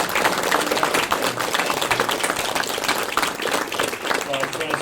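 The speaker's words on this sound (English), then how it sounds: "And let's give a round of applause." Audience applause fills a Tucson Comic Con 2025 panel room: a dense, steady round of clapping that holds for about five seconds, with voices mixed in underneath.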